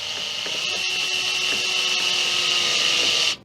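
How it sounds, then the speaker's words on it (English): A power tool whirs steadily at high pitch for about three seconds, then cuts off abruptly. "Power tools will make this a lot easier."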